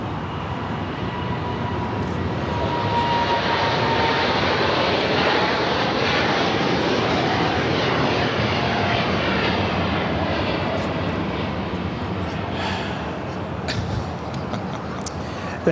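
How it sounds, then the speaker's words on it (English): A Polar Air Cargo Boeing 747-8 freighter takes off from Los Angeles airport, its engines a loud sustained roar that swells and then slowly eases as the jet climbs away, with faint voices in the background. "operated by Polar Air Cargo 927, taking off to Seoul on the 747-8 freighter"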